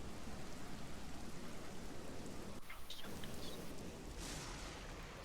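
Steady rain-storm ambience plays as background during a tabletop role-playing game session, a continuous hiss of heavy rainfall with a low rumble underneath, briefly dipping before the downpour resumes.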